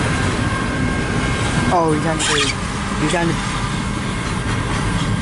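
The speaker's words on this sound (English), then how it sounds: "I hear the other train" Train moving on nearby tracks, a steady broad rumble with a brief horn-like tonal call, someone speaking briefly over it.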